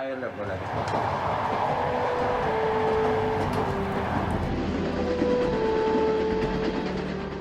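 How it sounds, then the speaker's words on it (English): A passenger train runs along the Silk Road route in Uzbekistan toward Bukhara, its steady loud rumble and rolling noise filling the whole stretch with faint tonal squeals on top. "The train is now entering the next famous city, Bukhara."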